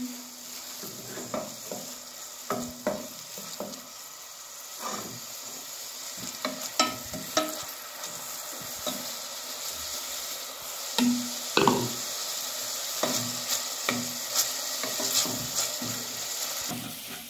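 Garlic and onion sizzle gently in a pan while a spoon stirs them, giving repeated scraping and knocking strokes over a soft, constant frying hiss.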